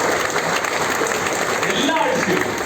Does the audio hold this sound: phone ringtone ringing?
no